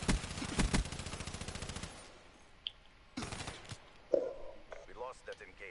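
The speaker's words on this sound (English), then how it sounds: "He shot me through the wall, did you see that?" Automatic gunfire in Black Ops 4: a rapid, loud burst of evenly spaced shots for about two seconds, then a shorter burst and scattered single shots, with a voice speaking between them.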